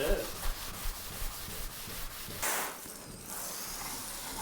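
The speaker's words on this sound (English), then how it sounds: "I say all three of us go at it with the Scotch-Brite and the Comet." Scotch-Brite pads and Comet scrubbing the original paint of a 1968 GMC C2500 truck: close, continuous abrasive rubbing with a brief burst of spray midway.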